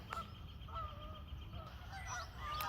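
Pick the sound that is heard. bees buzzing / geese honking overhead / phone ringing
geese honking overhead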